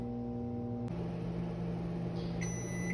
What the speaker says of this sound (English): So I put it in the microwave, set it for 3 minutes.